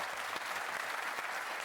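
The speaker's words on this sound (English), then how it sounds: "we always have to give a round of applause for that one" Steady applause from a live audience at a comedy show, a dense continuous patter of clapping hands that holds at an even level throughout.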